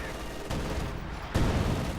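Rapid machine gun fire from an MG42 in the video game Company of Heroes 2, dense bursts of crackling shots overlapping with other gunfire and a commentator talking over it.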